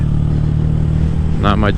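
A Honda Grom motorcycle cruising along with a steady, close engine drone, a brief burst of speech cutting in near the end over the motor.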